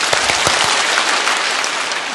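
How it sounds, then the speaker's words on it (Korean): A church congregation claps together during a Sunday service, a dense, even wash of many hands that is loud and continuous for about two seconds. "우리 성가대 찬양하고 난 다음에 박수 시작"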